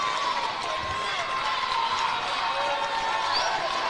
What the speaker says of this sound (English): A fever pitch from the friends and family crowd here tonight at the Cintas Center.